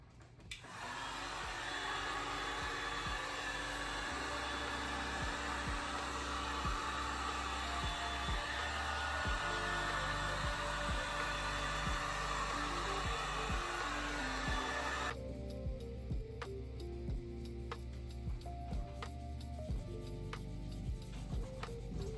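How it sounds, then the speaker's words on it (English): A heat gun blows steadily and loudly for about fifteen seconds while drying fresh paint on a restored part, then drops to a lower, rougher blowing hum with intermittent clicks and rubbing. "I am gonna hit it with the heat gun just to speed up the process rather than letting it air dry"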